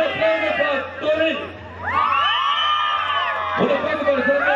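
A rowdy karaoke crowd cheers and whoops for a singer, with loud rising shouts and hollers close by, voices overlapping in bursts over a steady low hum.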